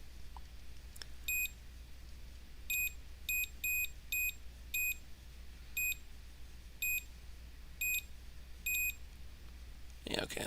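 A multimeter in continuity mode emits a series of short, clean electronic beeps at irregular intervals as probes touch ground points on an iPad 7 (2019) A2197 logic board, over a low steady hum, ending with a brief rustle.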